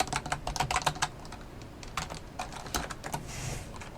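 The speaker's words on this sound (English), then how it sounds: "we're going to type in first name." Quick, uneven clicking of fingers typing on a computer keyboard, close and fairly crisp, in short bursts with brief pauses and no voices.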